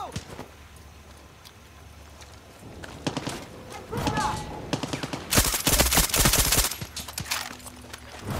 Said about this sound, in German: Das ist ein automatisches Gewehr.